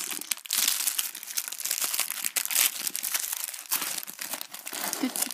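A magazine's plastic packaging is opened to get at a trading-card booster pack, giving close, continuous crinkling and crackling with short tearing bursts and no talking.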